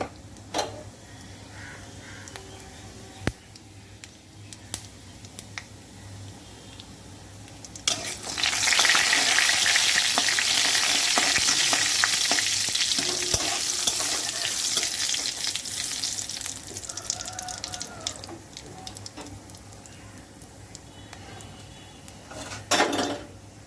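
Dry red chillies and whole cumin seeds hit hot mustard oil, bursting into a loud, steady sizzle that rises sharply midway and crackles on, with a few light clinks of a utensil before and after.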